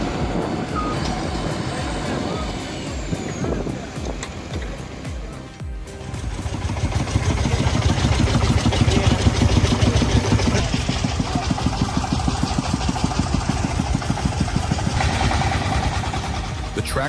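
Tractor truck engine running at a wood-loading site, a steady mid-pitched engine drone that grows louder and denser partway through, with a clattering rhythm and faint beeping over it.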